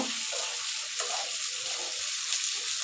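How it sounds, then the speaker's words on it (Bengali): Eggplant sautéed in a pan for hilsa curry, a continuous bright hissing sizzle of frying that stays steady and fairly loud throughout, with no talking. "বেগুনটা আমি কষাই নিতেছি ভালো মতো কষাই নিব"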